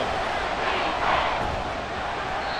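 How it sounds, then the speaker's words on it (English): Video-game football stadium crowd cheering in a steady, loud roar that swells slightly as the home fans get into a big third-down play. "The crowd getting into it as we come up on a big 3rd down."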